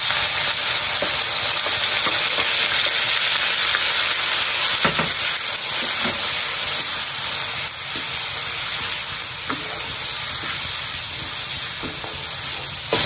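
Blended spice paste dropped into hot oil for a wedding-feast dish, frying with a loud, steady broadband sizzle and hiss throughout, with a few brief clinks and stirring scrapes and no talking.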